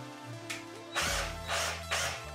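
A power drill whirs in short bursts while twisting wire, revving up and winding down three times with mechanical grinding and clicking between runs.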